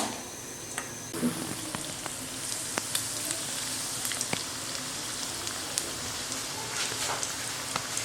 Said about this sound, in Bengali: এবার এই তেলের মধ্যে আমি ডোনাটটা দিয়ে দিলাম।